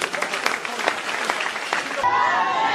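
A church congregation applauding at a deliverance and healing seminar, a dense burst of clapping that gives way to a voice in the last moment.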